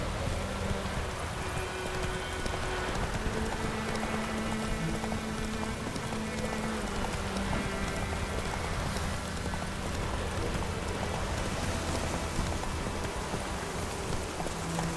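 Steady rain falls in The Witcher 3, a dense even hiss of drops on surfaces with a faint rhythmic clip-clop of horse hooves beneath, continuous and moderately loud throughout with no talking.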